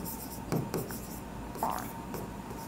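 Pen scratching on paper while writing a ledger entry, soft faint strokes in short bursts with brief pauses, under a quiet background hiss.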